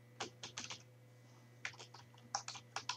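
Fortran code being typed on a computer keyboard: quiet, close bursts of rapid key clicks in two clusters separated by a short pause, over a faint low electrical hum.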